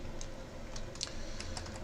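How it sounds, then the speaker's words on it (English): Someone types on a computer keyboard during a live release stream, with quiet, irregular key clicks spread over a steady background hum and no talking. "I'm gonna load up the blog and start typing certain things here"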